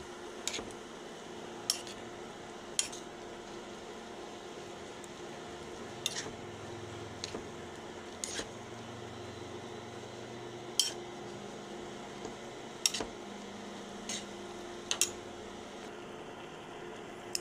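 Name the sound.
stirring ampalaya with eggs in a pan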